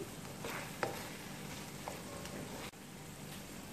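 Chicken gravy is stirred in a pan, giving a quiet, even sizzle with a few soft scrapes and a brief dip near the end.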